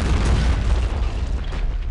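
Weapon fire and explosions in the WWII strategy game Men of War Assault Squad, a dense low rumbling barrage of booms rolling continuously without a break.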